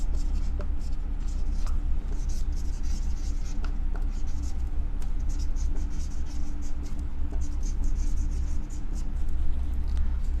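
A pen scratches steadily across paper, a continuous close scribbling with small strokes and taps, over a constant low background hum.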